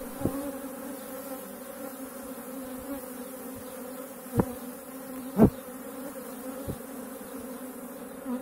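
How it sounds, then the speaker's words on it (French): A honeybee swarm buzzes steadily as it crowds into a small hive box, a dense, continuous drone with a few soft knocks and thumps, and no voices. "Là on voit bien que les abeilles essayent de rentrer"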